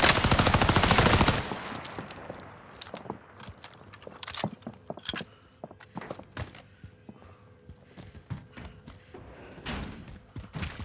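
Gunfire in Call of Duty: Modern Warfare: a dense burst of rapid automatic fire opens loud, then scattered sharp shots, thuds and footsteps crackle at varying distances.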